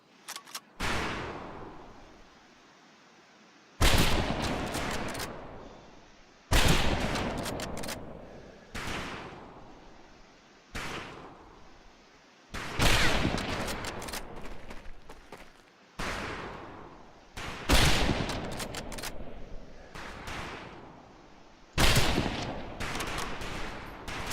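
Rifles fire on a training range in the Medal of Honor Pacific Assault video game, loud close reports in repeated bursts roughly every few seconds, each trailing off before the next volley.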